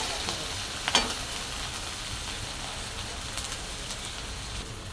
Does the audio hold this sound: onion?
yes